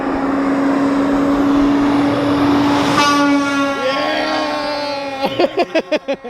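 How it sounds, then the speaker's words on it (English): A truck pulling a trailer roars past close by, its rumble swelling and then fading. A tonal whine glides downward as it goes. Deep, rhythmic thumps follow at the end. "we'll wait for this trailer to pass by"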